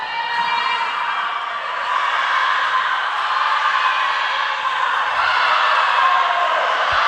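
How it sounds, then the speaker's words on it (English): Crowd cheering at an indoor girls' varsity swim meet, a sustained echoing din of yelling and whooping voices that swells slightly midway and stays loud throughout. "And the crowd is getting into this one. It's getting loud out there."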